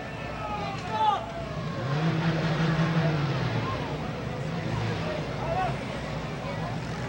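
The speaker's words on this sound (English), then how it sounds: "let's bring on the stock compact demolition derby cars." Stock compact demolition derby cars roll onto the track at a speedway night event, their engines rumbling and revving at a distance beneath steady crowd and announcer noise, with talk mixed in.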